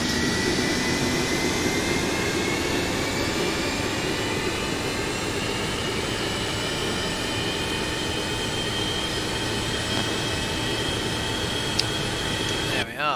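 Boeing 727-200F jet engine in the X-Plane 11 flight simulator, a steady loud roar with a high whine that holds evenly throughout before cutting briefly near the end.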